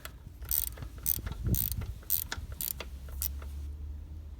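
A hand ratchet clicks in quick repeated strokes while tightening a bolt on the gearbox shifter of a Triumph Tiger 800 motorcycle, close and rhythmic, with no voice over it.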